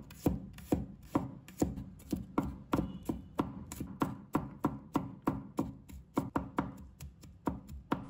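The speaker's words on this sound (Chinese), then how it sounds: "再准备一把大蒜，把它切成末。" A kitchen knife rapidly mincing garlic on a cutting board, giving a steady run of close, crisp chopping taps with no talk.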